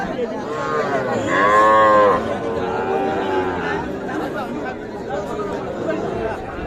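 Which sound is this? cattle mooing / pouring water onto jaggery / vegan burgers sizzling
cattle mooing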